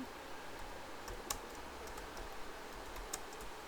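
Keys tap quietly on a computer keyboard as a search is typed, a few faint clicks, one or two slightly sharper, over low background hum.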